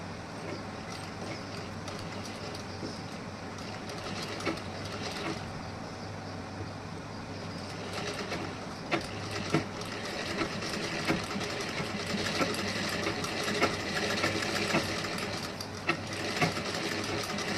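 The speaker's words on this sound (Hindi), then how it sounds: "अब यहाँ पे मैं सिलाई लगाऊंगी।" A sewing machine runs steadily while stitching blouse fabric, a continuous motor whir with rapid needle chatter, close and fairly loud, with a few brief clicks and no talk.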